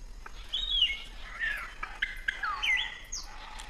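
Palm cockatoos call back and forth at their nest hollows, giving a string of whistled, rising and falling notes and sharp chirps at moderate distance with faint background hiss.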